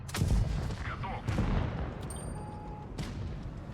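Tank guns firing in World of Tanks Blitz while driving a T-44-100, two sharp booms spaced about a second apart over a steady engine rumble, with faint game tones in the background.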